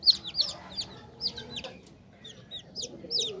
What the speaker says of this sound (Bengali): এগুলা দেশি মুরগির বাচ্চা